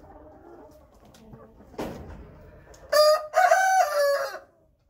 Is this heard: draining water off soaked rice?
no